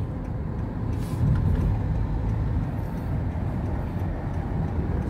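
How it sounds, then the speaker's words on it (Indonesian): Evening traffic in a jammed city street in Saudi Arabia, a steady low rumble of idling and slow-moving cars and buses heard from inside a vehicle, with no talking. "Ini masih macet ini, saudara, sore-sore jalannya macet."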